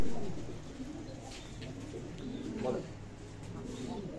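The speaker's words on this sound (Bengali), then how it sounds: "আজকে তো দেখলাম মাশাআল্লাহ অনেক কবুতরের কালেকশন রয়েছে" Pigeons cooing at a pigeon farm, soft repeated coos over a steady murmur of birds, with people talking nearby.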